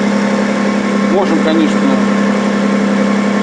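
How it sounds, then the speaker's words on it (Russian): A cold Lexus RX300 Turbo with a custom exhaust idles at raised revs, giving a steady, even low hum throughout while someone talks over it. "он сейчас на повышенных оборотах, мотор холодный еще"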